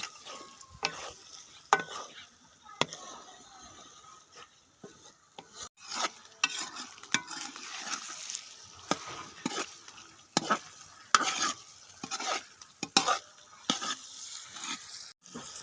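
Kaleji (liver) stir-fried in a pan: a spatula scrapes and rasps against the metal in irregular bursts over a soft, steady sizzle, close and with no voices.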